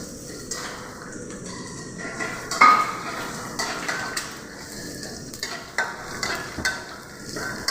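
Black pepper, mustard seeds, garlic and dried chilies fry in hot oil in a pan, with a steady soft sizzle under repeated scraping and clinking as a utensil stirs against the pan.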